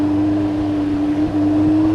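A Kawasaki Z1000 SX sports tourer's exhaust, a loud, steady droning hum heard close and uninterrupted, with no talk.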